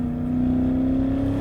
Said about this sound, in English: good exhaust noise too when you let off the throttle